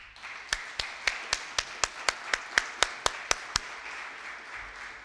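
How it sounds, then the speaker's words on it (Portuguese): During a plenary session of a municipal chamber in Santa Maria, a single pair of hands claps in a slow, regular rhythm of about a dozen sharp strokes, fairly close over quiet room tone. "solicito uma salva de palmas neste momento"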